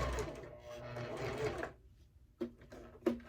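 A sewing machine stitches fabric in a short, quiet run of rapid mechanical whirring that stops abruptly, followed by a couple of brief clicks and taps as the needle is set and the fabric is pivoted.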